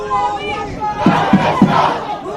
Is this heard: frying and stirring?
no